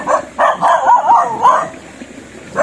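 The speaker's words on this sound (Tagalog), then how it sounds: "Dami na aso guys." Several dogs bark and yip close by along a river during night fishing for fish and shrimp in the provinces, sharp bursts in irregular clusters with a whining, wavering tone between them.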